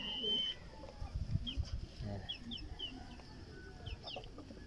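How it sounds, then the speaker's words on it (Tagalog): Soft, low clucking from a laying hen on a small farm, a few short murmured notes close by over quiet farmyard background with faint chirping. "Nangingitlog na ulit yung isang manok natin."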